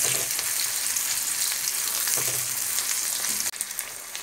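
Egg frying in hot oil in a home kitchen, giving a loud, steady crackling sizzle that carries on unbroken, with one brief sharp clatter near the end and no talking.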